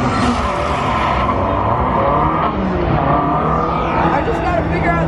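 Race car engine and skidding tires from a Forza 7 driving simulator at the 2018 North American International Auto Show, a loud revving engine with squealing slides under the crowd din of a busy show floor.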